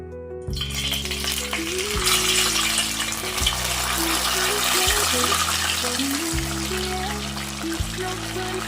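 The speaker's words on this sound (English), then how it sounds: "I already have some oil heating up on the stove." Yam pieces fry in hot oil on a stove, a constant sizzle running beneath gentle background music with a stepping melody.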